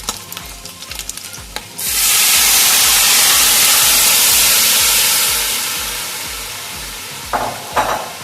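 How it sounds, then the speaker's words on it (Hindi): Mutton and onions frying in a pot for beef or mutton pulao burst into a loud, steady sizzle and hiss as stock is poured in, fading slightly toward the end, with a few clinks of stirring near the close. "हमारा जो गोश्त है वो बहुत अच्छा सा फ्राई हो चुका है और हमारा प्याज भी अपने कलर में आ चुका है। तो अब हम इसमें स्टॉक ऐड करेंगे।"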